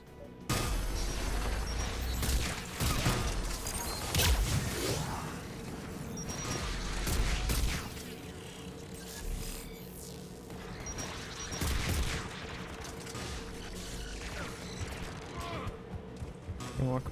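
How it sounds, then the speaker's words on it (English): Anti-aircraft guns firing in the video game Mass Effect 3, sustained thudding bursts and mechanical clatter layered over a dense, loud battle soundscape with music. "AA guns ahead of us."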